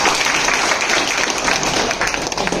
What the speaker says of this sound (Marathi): टाळ्या वाजवायसाठी.